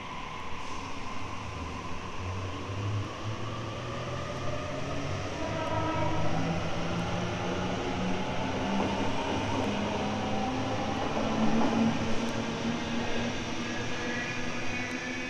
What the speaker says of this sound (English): There should be a train coming on platform 1 and on platform 2.